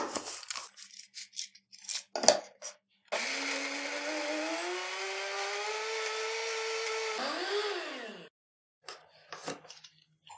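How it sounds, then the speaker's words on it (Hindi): Bursts of clattering and handling, then a mixer grinder whirs loudly for about five seconds, its pitch rising and dipping before it stops and clatter resumes. "अगर आपके पास बड़ी मिक्सी है तो आप उसमें ये ग्राइंड कर सकते हैं"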